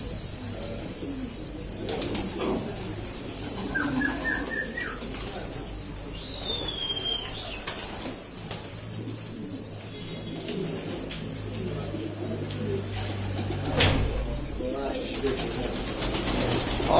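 Pigeons coo and chirp at a pigeon market in a Gaziantep café, with scattered soft calls and a few wing flutters in a busy room. People talk in the background.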